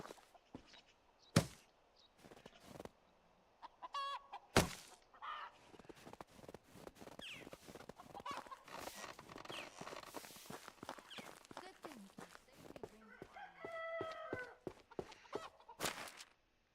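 Chickens and roosters clucking on a farmstead in the Medieval Dynasty video game, scattered soft clucks mixed with repeated footsteps and a busy clatter of sounds, plus a brief squawk near the end.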